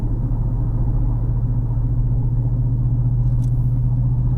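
Ford 7.3 Godzilla truck engine towing 6500 lbs downhill in 7th gear on a steep mountain grade, a steady low drone and road rumble that holds constant throughout, with no talking.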